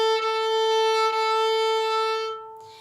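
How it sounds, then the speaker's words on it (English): A single sustained violin note bowed over the fingerboard, thin and airy with a breathy, wispy edge, held steadily before fading out. "if it's starting to veer this way over the fingerboard, you lose a lot of sound and it gets really kind of wispy"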